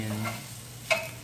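Chopped onion sizzles and fries in a hot pan for breakfast, giving a steady low crackle. One brief louder scrape or stir comes near the end.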